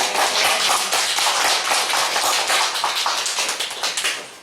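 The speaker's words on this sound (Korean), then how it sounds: "박수 치면서 합시다." A church congregation claps along during a worship service, with dense, rapid overlapping hand claps filling the space at a steady loud level before tapering off at the end.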